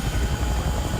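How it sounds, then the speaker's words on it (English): A helicopter arrives in the game C&C Renegade, a loud close rotor thump pulsing rapidly and steadily for a brief moment, with no voices. "As you can see, helicopter comes in"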